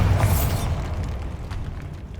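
A Bombarda explosion spell cast in the Hogwarts Legacy video game: a heavy booming blast with a bright burst at the start, then a rumbling low tail that fades slowly across two seconds.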